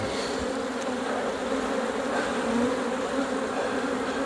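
Honeybees drone in a dense, continuous buzz at an opened hive after a swarm. The sound is close and steady throughout, with no talking.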